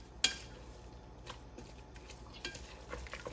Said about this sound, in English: So I'm quickly going to stir that in.